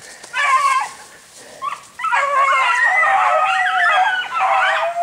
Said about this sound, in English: Oh, a bunch of Branko's dogs.